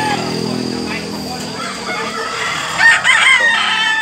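A white fighting rooster with green legs crows loudly nearby, its strained cry rising near the end over constant background noise and faint clucking.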